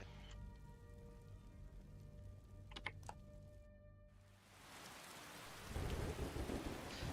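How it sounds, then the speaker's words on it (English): Steady rain hisses with low rumbles of thunder in a video game, swelling into a heavier downpour toward the end, with a tonal hum underneath. "It has stopped snowing, but it's now raining."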